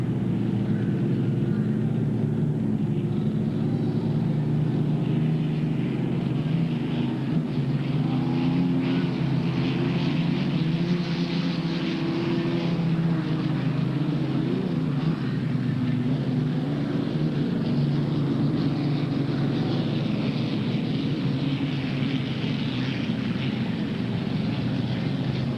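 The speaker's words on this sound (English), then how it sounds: "Here come the big old piston boats down this front straight." Classic piston-engine hydroplane race boats roar down the front straight on Lake Washington, a loud, sustained, throbbing engine drone that holds steady for about twenty-five seconds as the boats pass one after another.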